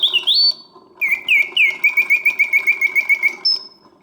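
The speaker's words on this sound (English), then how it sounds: "It's a wonderful example of a vintage Karl Griesbaum singing bird in cage, and it works exactly as it should" A vintage Karl Griesbaum mechanical singing bird in a cage trills clearly and alone, with a rising whistle, then a long run of rapid, evenly pulsed chirps and warbles, ending on a high sustained note.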